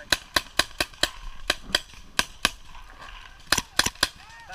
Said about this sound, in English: Just shoot at this mound.